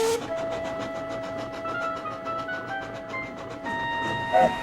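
Trains pass steadily on a hot summer day, a rhythmic clatter of wheels over rail joints with a sustained whistle-like tone, fairly close and continuous.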